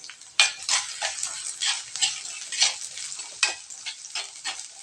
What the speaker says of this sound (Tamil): வெங்காயம் வந்து கொஞ்சம் நல்லா வதங்கணும்.